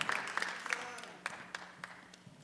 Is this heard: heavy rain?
no